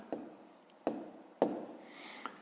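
Handwriting a maths answer in a school exercise, pen tapping and scratching on paper in three or four brief strokes, quiet and close, with soft rustling between.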